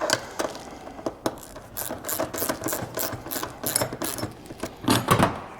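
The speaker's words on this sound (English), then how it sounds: "put a turn on them with the ratchet with the 6mm" A ratchet with a 6mm socket turning roof rack bolts on a Land Cruiser 200 Series, with rapid clicking pawl strokes in short rhythmic bursts, close and fairly loud.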